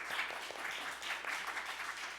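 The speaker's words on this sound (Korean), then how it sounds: "두 분 토론자분들께 다시 한번 큰 박수 부탁드리면서" A seminar audience at an academic conference applauds the two discussants, steady continuous clapping heard from a distance and fairly quiet, with no talking over it.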